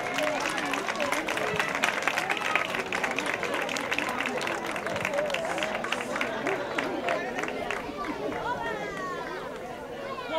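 Audience applause at an end-of-year school ceremony in Almonte, dense crowd clapping mixed with chatter and cheering children's voices, steady throughout with a lively hubbub.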